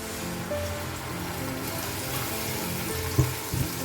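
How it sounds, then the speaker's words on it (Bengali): Onion, garlic, green chilli and ginger paste frying in hot oil, a steady close hiss and crackle with a couple of sharper knocks near the end, no talk. "তেল গরম হয়ে আছে আমি এই পেস্টটা এর মধ্যে দিয়ে দেব"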